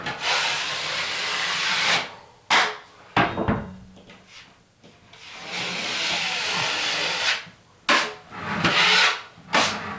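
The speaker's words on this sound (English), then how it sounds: "I can just take this excess mud off here" A taping knife scrapes excess drywall mud off an inside corner or seam during skim coating, giving repeated loud, rough scraping strokes of a second or two each, separated by short pauses and a few knocks.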